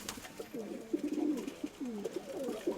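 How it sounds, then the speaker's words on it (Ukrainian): A pigeon coos in a short series of soft, rolling calls, close by and fairly clear, repeated several times over a quiet background. "Це, кстати, голуб."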